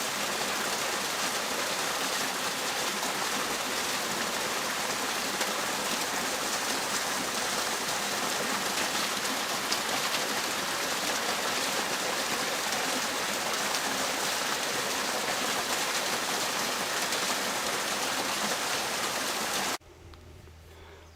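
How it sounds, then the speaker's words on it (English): A small, clear mountain stream runs straight out of the hillside, spilling into a pool with a steady, full babble that holds evenly throughout and drops off abruptly at the very end. "This beautiful little stream coming straight out of the mountain"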